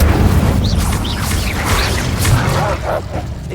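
A fire spell being cast in the Hogwarts Legacy video game, heard as a dense burst of roaring, crackling game sound effects with layered booming impacts that run the full length and stay loud throughout.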